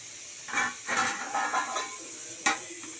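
Steam hisses in soft bursts from a pressure cooker whistle on a home kitchen stove, with a sharper, brief spurt near the end and no voices.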